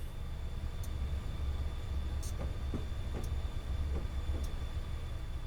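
An SD50 locomotive hauling a heavy freight train in Train Simulator 2020 rumbles steadily at low pitch. Light metallic clicks and clanks from the rails recur throughout at a moderate level.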